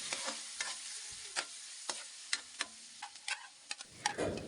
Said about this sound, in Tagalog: Pagkatapos ko nga ginisa ang bawang sibuyas, ay sinunod ko na nga itong hotdog.